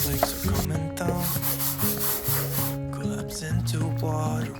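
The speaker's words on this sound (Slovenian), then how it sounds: "Zdaj bom malo zribati te kote. Tu imam tako krtačo iz Tedija za 1 euro ali 2." Continuous close scrubbing from a cheap hand brush worked with water into balcony corners, with short rhythmic strokes beneath prominent background music and a singing voice.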